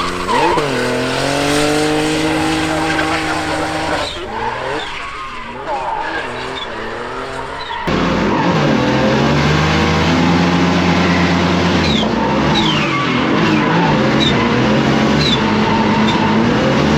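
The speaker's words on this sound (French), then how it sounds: "Le turbo en surge totale." A race car drifting at a French championship Wildcard round in Val de Vienne, its turbo in full surge: a loud, sustained engine roar with tire squeal and fluttering surge that breaks off midway, then returns, while a commentator talks over it.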